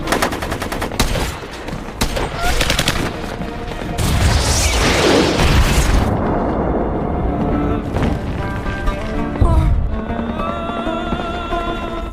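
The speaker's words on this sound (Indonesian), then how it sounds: "Sersan Raines tewas ditembak RPG oleh Khalid." A heavy RPG blast roars out in the middle of a loud battle scene during a US embassy siege in Jarhead 3: The Siege. Dense gunfire crackles before and after the thick, rumbling explosion.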